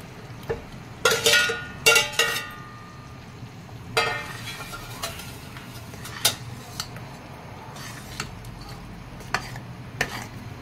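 Paneer is tipped into palak curry in a pan and stirred, with a burst of sharp metallic clanks and scrapes from a spoon against the pan, then sparser taps and scrapes, no talking.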